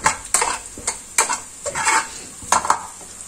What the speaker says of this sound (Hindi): प्याज देखें सुरख हो गया, अब इसमें हम थोड़ा सा डालेंगे जीरा और इसको हम हला देंगे।